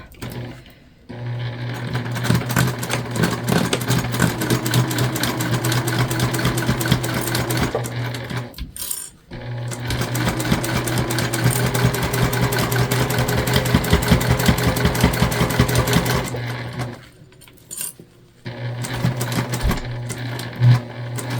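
A sewing machine runs in two long bursts stitching the seams of a gift bag made from a placemat, its rapid mechanical whir steady and close, with brief pauses between runs and no talking.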